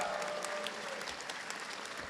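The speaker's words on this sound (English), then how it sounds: "So give a big round of applause to Mr. Dookie." An audience applauds at a high school SkillsUSA induction ceremony, steady clapping from a crowd held at an even level throughout, heard somewhat distant with no voices over it.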